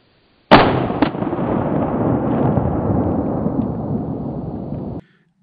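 A single 20 gauge shotgun shot fired with 7.5 shot, a sharp loud blast followed by a long rolling outdoor decay lasting several seconds, with a faint second report right after the first.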